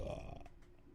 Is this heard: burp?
yes